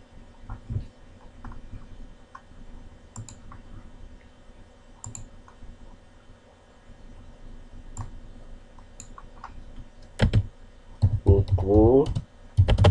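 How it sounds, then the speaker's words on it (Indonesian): Keys click on a computer keyboard in short scattered bursts while entering a petty-cash ledger in Google Sheets, faint and close, with a voice speaking near the end. "Oke, kita ketik."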